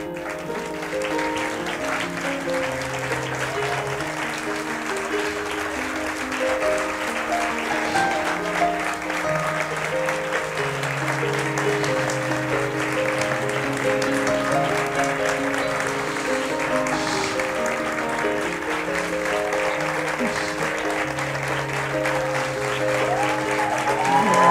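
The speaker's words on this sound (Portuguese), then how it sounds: "Esses aplausos são para todos nós" Applause from a TEDx audience fills the hall steadily, a broad wash of clapping that holds at a constant level throughout, with music or tonal sounds running underneath.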